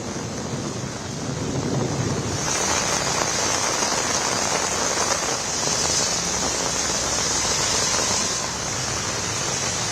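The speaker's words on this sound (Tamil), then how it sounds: "மதியம் கனமழை பொழிந்தது." Heavy afternoon rain pours down in a steady, loud hiss of drops hitting surfaces, unbroken and close, with no voices.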